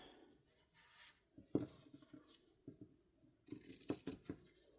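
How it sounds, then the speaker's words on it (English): Scissors snip through fabric being trimmed for a book cover, a few soft crisp cuts close by, the loudest bursts near the end, with no talking. "So I'm going to cut off this at the top here."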